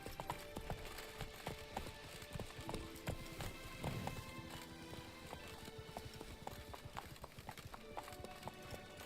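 The horse Roach gallops in the video game Witcher 3, with rapid rhythmic hoofbeats and some soft game ambience throughout.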